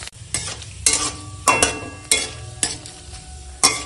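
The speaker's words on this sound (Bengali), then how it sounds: "ফোড়নটা এখন ভাজা হয়ে গেছে," Bay leaf, dried chilli and five-spice sizzle in hot oil left over from frying lentil dumplings, a steady crackle broken by about six sharp scraping stirs.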